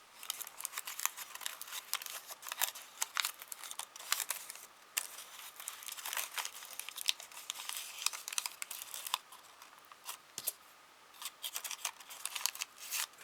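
Crisp paper creasing and crinkling as folds are pressed into a small lace paper umbrella, with a steady run of close, dry rustles and soft taps and no talking.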